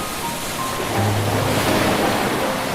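Ocean waves washing in a steady, loud surf roar with a gentle swell in the middle, broad and continuous with no voices.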